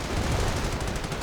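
Rapid bursts of gunfire rattle from a World War II strategy video game, with dense overlapping shots in a steady, loud stream and no speech.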